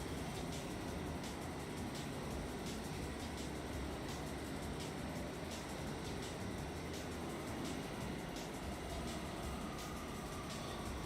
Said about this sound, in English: I can hear the sound looping because it sounds like the train is like slowing down, but it's really not.